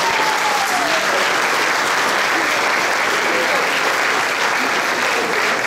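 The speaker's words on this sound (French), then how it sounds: "On nous applaudit." A large audience applauds steadily and loudly without pause, a dense wash of clapping at a Montreal gathering, with a faint voice underneath.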